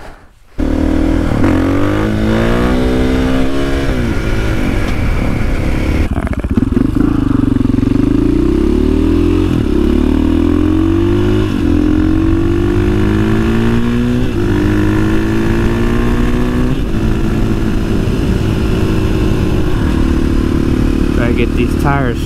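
A KTM 500 supermoto motorcycle rides while scrubbing in its tires, the engine revving loudly and repeatedly rising and falling through the gears close up, with a voice heard at times under the engine.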